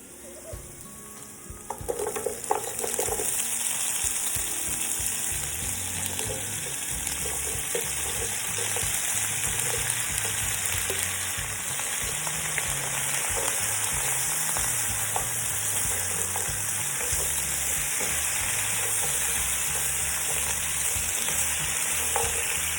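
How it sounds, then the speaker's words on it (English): Vegetables and sesame seeds stir fried in a hot pan for a beef pepper steak dish, giving a steady loud sizzle with continuous scraping and stirring throughout, no talking. "stir fry that until the sesame seed is slightly golden brown, and then introduce the vegetable into the pan"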